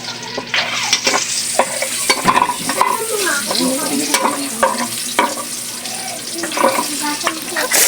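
Tuna steak sizzles and fries in a pan, with steady crackling and intermittent scraping and stirring clatter throughout, fairly close and loud.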